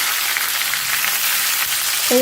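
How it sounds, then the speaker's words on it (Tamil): Onion and coriander sauté for a guava chutney, a steady loud hiss of frying that fills the whole stretch, ending with a short faint tonal beep. "கொத்தமல்லையும் போட்டோம் எல்லாம் ஒன்றா சேர்ந்து வதங்கி வரட்டும்"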